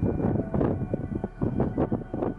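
Strong coastal wind buffets the microphone at the Kaikoura seal colony in New Zealand, producing a loud, continuous low rumble with gusty surges throughout.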